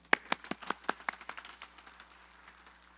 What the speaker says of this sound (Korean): 우리 하나님께 영광의 박수 한번 돌릴까요?